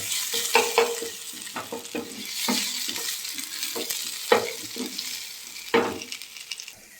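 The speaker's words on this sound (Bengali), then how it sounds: "কুচিয়ে রাখা পেঁয়াজ পেঁয়াজটা পেঁয়াজটা বাদামি রং হওয়া পর্যন্ত আমরা অপেক্ষা করব" Chopped onion frying in hot oil in a pan until brown, with a steady sizzle and periodic stirring scrapes and clatters of a utensil, close and fairly loud, with no talking.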